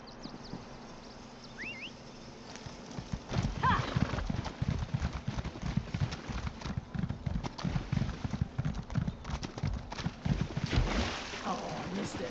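Horse hooves clip-clop at a gallop along a path in a video game, a rapid, busy rhythm that starts faint and grows louder, with a brief whinny-like cry early on.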